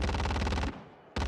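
Rapid automatic gunfire strikes the player in a first-person game set in the T-3 Refinery, a loud, dense burst of evenly spaced shots that stops abruptly, leaves a short decaying tail, then resumes.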